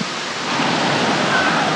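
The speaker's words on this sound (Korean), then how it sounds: "여기 진짜 폭포다, 폭포" A steady roar of rushing water fills the space near Bangkok, a waterfall's broad hiss that swells slightly and holds constant throughout.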